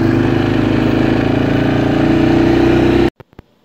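A four-wheeler engine running close and loud at a steady drone for about three seconds, then cutting off abruptly, followed by a couple of faint clicks.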